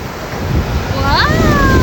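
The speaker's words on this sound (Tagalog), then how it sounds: "Ang lakas ng alon guys." Strong sea waves at a beach roll in a continuous roar with wind buffeting the microphone, loud and close, while a high whistling or squealing tone rises briefly near the end.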